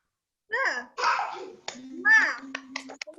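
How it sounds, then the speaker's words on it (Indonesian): Children in an online class perform a rhythmic spirit clap in short bursts of hand claps, with young voices chanting along between the claps. "Tepuk semangat."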